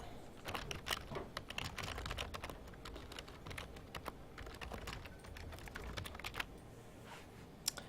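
Computer keyboard keys being typed and tapped, including spacebar presses, in quick irregular clicks close by against a quiet background, with no talking.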